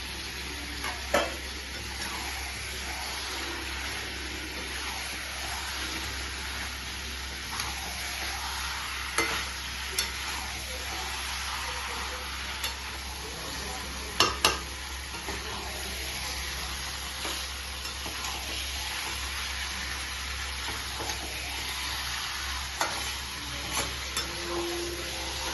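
Potatoes stirred into a pan of sizzling Bengali mutton kosha curry, with steady frying crackle throughout and occasional louder scrapes and stirring knocks close by.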